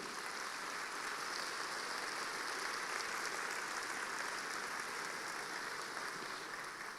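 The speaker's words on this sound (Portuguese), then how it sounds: "Pode aplaudir a Ele." Church audience applauding continuously during a sermon, a broad, steady patter of many hands that sounds almost like heavy rain, holding level throughout.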